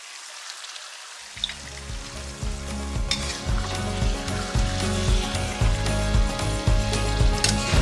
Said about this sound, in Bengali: এদিকে মাটন কষানো চলছে